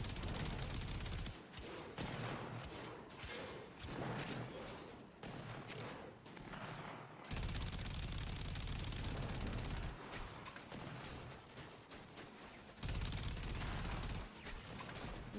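Enemy gunfire rattles in the video game Warframe, heard as rapid bursts of automatic shots that come in dense volleys separated by short pauses, fairly loud throughout.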